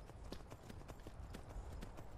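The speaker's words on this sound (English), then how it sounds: "I just stole a horse!" Rapid clip-clop of galloping horse hooves in the video game Skyrim, steady and fairly quiet, with a low rumbling background throughout.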